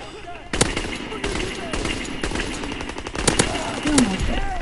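Heavy automatic gunfire in Call of Duty WW2, sharp repeated bursts cracking out across a busy battlefield mix, with a voice speaking faintly underneath.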